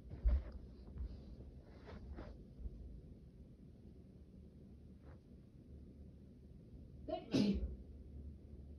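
A single sharp sneeze bursts out near the mic around a bonfire gathering, loud and abrupt against quiet wind-like background rumble and faint murmurs.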